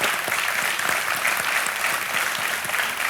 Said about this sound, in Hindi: बहुत बहुत स्वागत राजीव जी और प्रवीण जी, और तालियों के साथ एक बार फिर हम इनका स्वागत अभिनंदन करते हैं।